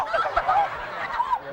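A human voice imitates a chicken, giving a short run of squawky, clucking honks that rise and fall over about a second and a half, loud and close, with no other talk.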